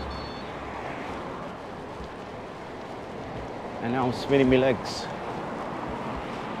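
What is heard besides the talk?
wind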